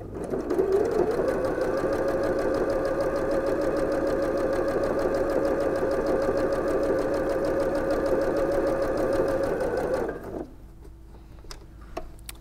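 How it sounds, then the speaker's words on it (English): A sewing machine stitches an apron, running as a steady, close mechanical whir for about ten seconds before stopping and leaving near silence with a few small clicks. No one speaks. "So I'm just going to pivot, needle down, pivot, and then sew along the rest of your apron."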